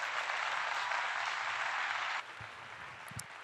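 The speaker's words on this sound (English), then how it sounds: "Round of applause for that." Applause from an audience, a dense even patter of clapping that runs steadily and then drops off abruptly, leaving a faint, quieter room tone with a couple of small knocks.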